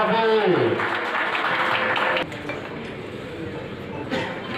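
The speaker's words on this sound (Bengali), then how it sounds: "জোরে করতালি" Crowd applause at a Teachers' Day event, a broad steady wash of clapping that carries on beneath a speaker's voice and settles slightly softer midway.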